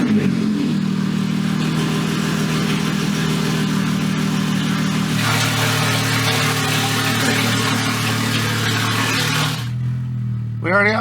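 A single-turbo BMW 135i engine runs at a loud, steady idle close by, with a rough, throbbing tone that lifts partway through, then drops sharply near the end, with a voice speaking over it.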